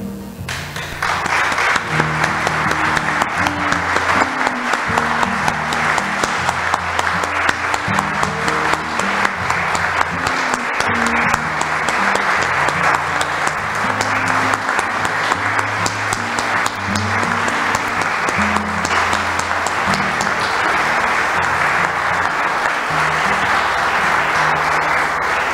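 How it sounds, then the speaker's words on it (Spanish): A lecture-hall audience at a conference series marking fifty years of Cancún applauds steadily for a minute in memory of someone, loud and sustained dense clapping throughout with no speech over it. "sí me gustaría que diéramos un minuto de aplausos"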